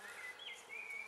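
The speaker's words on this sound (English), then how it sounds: "the bees just don't leave this comfrey alone" Bees buzz close by around comfrey flowers on an allotment, a continuous whining hum that rises and falls in pitch as they move, with no voices.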